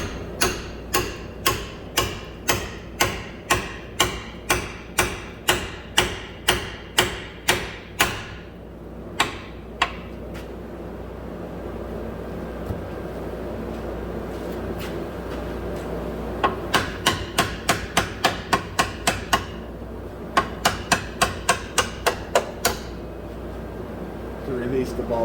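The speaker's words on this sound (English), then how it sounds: "I'm using a pickle fork." A pickle fork is hammered to release the lower ball joint on a 2010 Subaru Forester, producing a steady run of sharp metallic blows, a pause, then further rapid strike series, with someone speaking at times.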